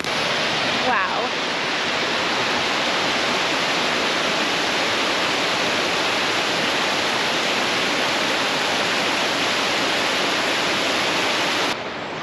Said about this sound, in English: We are approaching our first waterfall, the Lower Lewis River Falls.